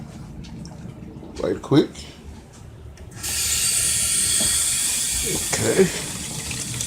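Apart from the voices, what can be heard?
tap water filling mini twin tub washing machine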